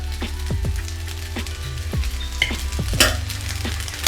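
Egg rice being stirred and mixed in a pan, with repeated scraping strokes of a spatula over a steady low sizzle, close and moderately loud, no voices.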